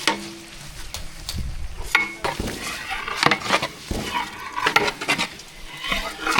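Rice for chicken biryani is mixed with biryani masala, curd and lemon juice in a pot, giving close, uneven scraping and stirring with wet squelches and scattered metallic clinks of spoon against pot.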